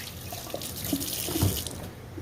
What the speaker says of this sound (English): I'm gonna go ahead and rinse my hands off again.